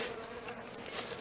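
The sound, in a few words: honey bees buzzing at hive in spring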